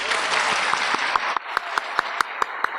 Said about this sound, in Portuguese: a quem peço, por favor, uma salva de palmas